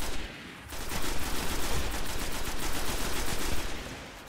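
Rapid gunfire rattles through a Destiny firefight, dense bursts of shots running nearly the whole time at steady loudness after a short quieter opening.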